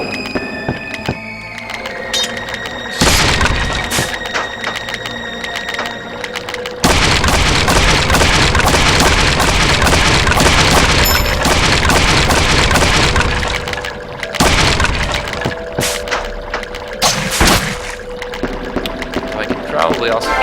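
Explosions in the PC action RPG Xanadu Next, loud booming and crackling bursts with splintering wood and thunks, layered with game music and someone talking throughout.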